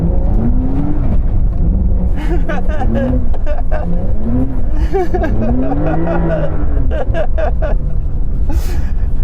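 Porsche 911 Dakar sliding around on dirt, engine revving and rising and falling in pitch as it drifts, loud and close with loose gravel noise, while people talk and laugh over it.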